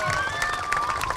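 A school audience applauds Mrs. King at a Cops For Kids With Cancer event, clapping mixed with crowd noise and a few raised voices, continuous through the short moment.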